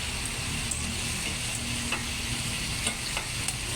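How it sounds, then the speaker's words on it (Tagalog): Chicken pieces for adobo sear in a hot pan with a steady sizzle and frying crackle, broken by occasional soft clinks and scrapes as they are stirred and turned. "Sinisir muna at baliktadin din natin yan guys."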